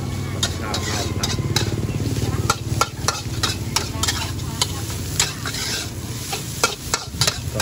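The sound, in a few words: stir-frying rice in a pan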